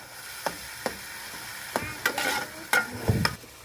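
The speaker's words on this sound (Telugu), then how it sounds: "టమాటా పండ్లు మిక్సీ పట్టిన టమాటా పండ్లను అయితే వేసుకుందామండి" Blended tomato pulp fries in hot oil for a village-style okra stew, a soft sizzle broken by about half a dozen sharp scraping stirs of a spoon against the pan.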